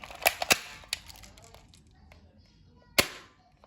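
Sharp gunshots, likely from a toy or cap-style gun, crack in a quick burst of three or four, then one more loud shot after a pause as the ammunition runs out; faint background noise between.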